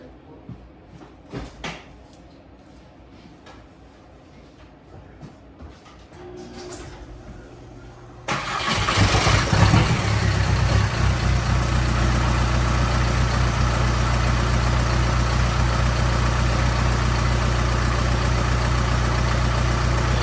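A VW Mk4 with the ALH diesel engine, just fitted with a replacement injection pump, cranks and fires after some quiet handling noises, then settles into a loud, steady diesel idle that runs to the end.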